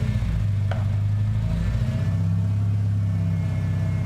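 Car engine idling steadily at close range, then its low rumble revving up briefly as fuel is added, during work on a Honda or VW Tiguan radiator.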